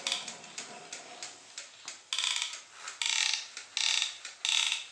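An inchworm crawler robot built from an old DVD drive moves across carpet, its small motor and gears giving quick rhythmic mechanical ticking and ratcheting bursts that grow louder and longer, close and faint, with no voices.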